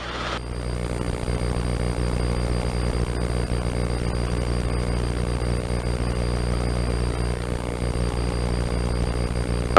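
Helicopter in flight during a flying lesson, heard from inside as a loud, steady engine and rotor drone with a constant low hum throughout.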